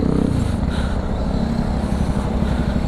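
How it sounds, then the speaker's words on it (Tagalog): A Motorstar 150cc sports bike engine running nearby, giving off a steady, rough low rumble that holds at an even level for a few seconds without clear revving. "Ayan o, bagong motor niya"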